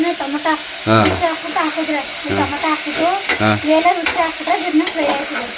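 Tomato sizzles in hot oil in a home kitchen pan, loud and close, with repeated scraping strokes of a stirring spoon and a brief voice in the background.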